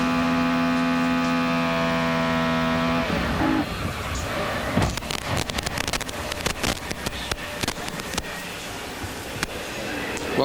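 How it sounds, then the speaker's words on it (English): A race car's engine at the 1998 Pep Boys 400K screams at a steady, flat-out pitch for about three seconds, then cuts out abruptly, leaving rough crowd and track noise with scattered clattering. "Listen to the sound of the engine here"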